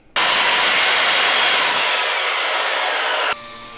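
A power sander works over wooden toy box parts, a loud steady broadband whir that starts abruptly, holds for about three seconds and then cuts back to a lower hum.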